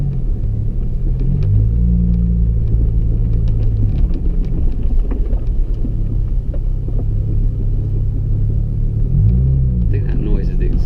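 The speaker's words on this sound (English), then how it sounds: "I think that noise is the exhaust." Low, rumbling exhaust drone from a Subaru SVX being driven, a steady loud engine note throughout with a couple of brief rises in pitch, while people talk over it inside the car.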